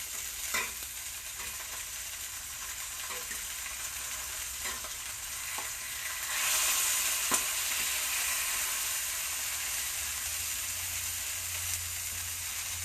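Steelhead trout fries skin-down in a pan, a steady close sizzle with scattered small crackles and pops, the hiss swelling louder midway, with no talk.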